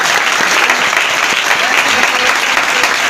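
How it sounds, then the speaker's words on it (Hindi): Loud, dense clapping from a church congregation, continuous and close for the full few seconds, with no speech standing out above it. "ताली बजाएं भाई।"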